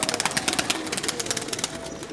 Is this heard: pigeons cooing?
yes